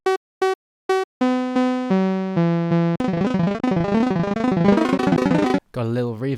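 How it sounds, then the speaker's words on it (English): A Brazilian phonk one-shot sample plays as separate punchy hits, then repeats with reverb and delay, the notes smearing into a dense, echoing tail before a final distorted burst. "Got a little reverb and some delay."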